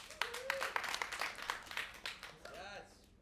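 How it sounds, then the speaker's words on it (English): A comedy-show audience claps and cheers in a scattered, moderately loud burst, with whoops and rising voice tones mixed into the clapping before it tapers off. "Who clapped? Who clapped hardest?"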